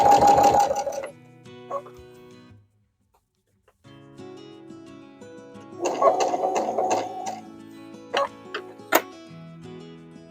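Home sewing machine stitching binding onto a heavy quilt, running in bursts of rapid mechanical stitching separated by pauses, with a few brief ticks and clicks near the end, close and fairly loud with no talk.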